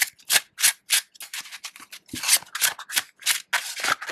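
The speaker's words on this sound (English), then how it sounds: "So I'll do a little shuffle." Papery riffling bursts repeat in quick, uneven waves as a deck of tarot cards is shuffled up close, each pass a short crisp rush.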